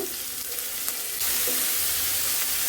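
Onion, chili and tomato hit hot oil in a village-style kitchen while making shing fish curry, with a steady close sizzle and frying hiss that jumps louder partway through as the ingredients go in.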